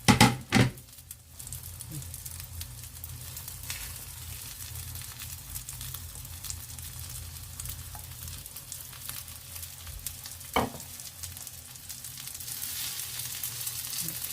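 Steady oily sizzling of an oyster and chive pancake frying in a pan over low heat, continuous and close, with a few soft clicks and a brief clatter of utensils.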